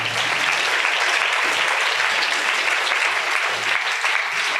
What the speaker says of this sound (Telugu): చప్పట్లు ఇప్పుడు కొట్టాలందరూ